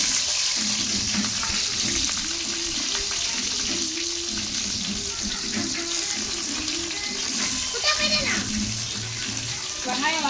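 Garlic, green chili and onion go into hot oil with popped mustard seeds, giving a steady, close sizzle that runs throughout with a brief louder crackle and clatter partway through.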